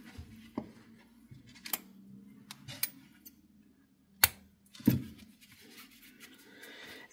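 Scissors snip through crochet yarn on a snowman amigurumi, sharp isolated clicks and cuts spaced apart over quiet handling noise, with no talking.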